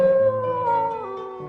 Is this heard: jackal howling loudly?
yes